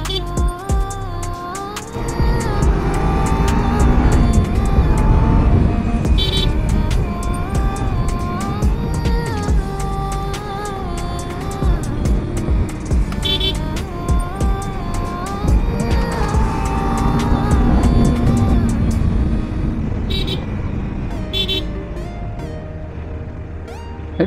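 A Kawasaki Ninja 300 motorcycle rides through busy traffic, its engine droning steadily close up with rising and falling revs, mixed with surrounding road rumble and brief horn-like tones.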